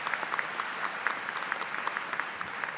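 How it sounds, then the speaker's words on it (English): An audience at a university graduate commencement ceremony applauds with a steady patter of claps that is moderately distant and fairly quiet, with no voices over it. "Give him a round of applause"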